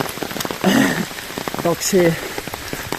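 Steady rain patters on surfaces outdoors in Normandy, with someone speaking briefly in French over the constant hiss of falling drops.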